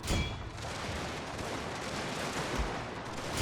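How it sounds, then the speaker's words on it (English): Massed gunfire from a Prussian-era strategy video game battle, a sharp crack at the start and another burst near the end over a constant roar of distant volleys, with no talking. "That was a lot of gunfire"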